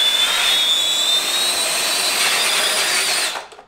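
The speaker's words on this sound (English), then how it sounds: "We're just gonna try to see if it can hover, if it has enough thrust to lift itself." Small homemade tricopter drone motors spin up to a loud, steady high-pitched whine with a rising tone, holding for about three seconds before cutting off abruptly into quiet.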